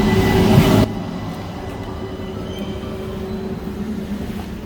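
A train rumbles steadily through a Dutch railway station, a low continuous rolling drone with faint wheel noise after a brief louder burst at the start.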